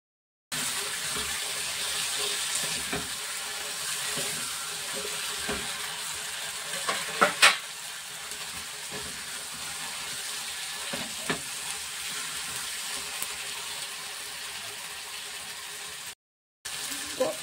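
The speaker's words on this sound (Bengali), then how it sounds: "ফুলকপিটাকে আমি দিয়ে দিলাম, দিয়ে এবার একটু নাড়ব।" Cauliflower pieces fry in oil in a pan for a home-style cauliflower roast, giving a steady close sizzle broken by intermittent scraping clicks as they are stirred.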